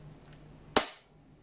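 A single sharp pop as an Armorer Works VX7310 Polymer80 airsoft gas blowback pistol fires once, the crack followed by a quick decaying slide clack, close and alone over faint hiss.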